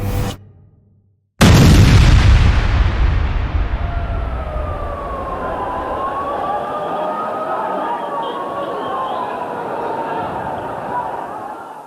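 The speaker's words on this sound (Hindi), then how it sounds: "बड़ा धमाका होता है।" A car bomb explodes in a building basement in Mumbai: a sharp, massive blast after a brief silence, followed by a long roaring rumble with sirens wailing over the top.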